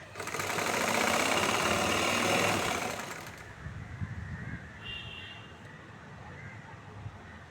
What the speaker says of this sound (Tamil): ஏற்கனவே தைச்ச தையல் தெரியாமல் கருப்பு துணியோட ஓரமாக தைக்கிறோம்.